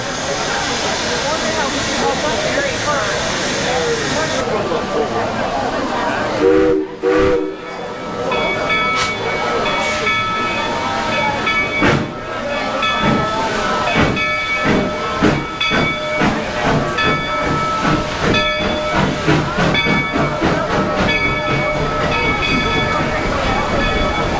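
A steam train in a Rocky Mountains silver town hisses and rumbles close by, with loud bursts of steam, rhythmic clanking and sustained whistle-like tones, with voices faintly mixed in.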